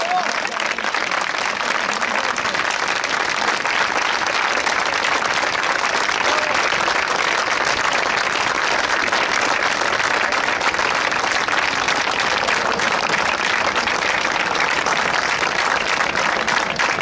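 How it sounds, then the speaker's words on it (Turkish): Sustained loud applause from a crowd at a solidarity rally, dense steady clapping filling the whole stretch without a break, with voices mixed in. "Alkışlayın kendinizi"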